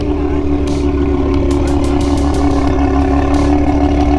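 A Mazda RX-7 rotary engine running at a car meet, a loud steady rumbling idle with a constant low drone and scattered sharp clattering ticks over it.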